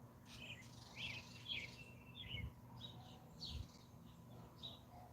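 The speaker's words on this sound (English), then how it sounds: "I hear the sweet birdie birds." Small birds chirping in a garden, quick bright twitters repeating every second or so at a moderate distance, over a steady low hum and faint insect-like buzz, with no talk.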